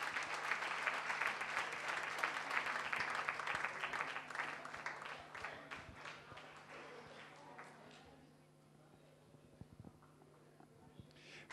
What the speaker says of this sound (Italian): un applausissimo e ci vediamo tra un attimo, dopo la pubblicità